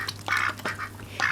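A pet duck quacks close by, giving three or four short raspy calls in quick succession over a steady low background hum.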